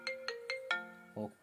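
An iPhone ringtone plays from the phone's speaker during a sound test: a quick run of bright chiming notes, then a lower tone, clear and close with no talk over it.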